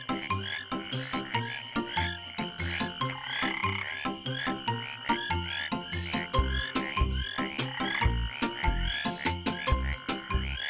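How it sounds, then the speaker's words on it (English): Tree frogs croak in a dense, continuous chorus, with rhythmic pulsing calls layered over one another at steady, fairly loud volume. "Another fascinating case study is the tree frog"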